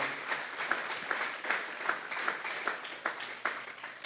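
A church congregation gives a round of applause to God as an offering, the clapping dense and steady for about four seconds, moderately loud and somewhat distant in the room.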